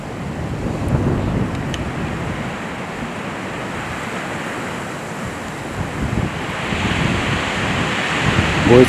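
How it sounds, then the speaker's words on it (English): Strong wind gusts outdoors during a cold muzzleloader deer hunt, a constant broadband roar buffeting the microphone that swells louder toward the end, with no talking. "Boy, it's windy."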